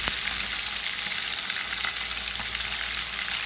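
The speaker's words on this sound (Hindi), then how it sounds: "बस सारी इसी तरह से तल के निकाल लेंगे।" Fish pieces frying in hot oil for a fish korma give a steady, close, broadband sizzle that holds evenly across the whole stretch, with no talking over it.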